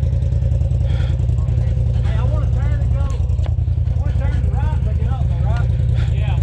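An off-road vehicle's engine drones loud and steady at low pitch, revving as it climbs over terrain on a mountain trail, with a person talking over the engine throughout.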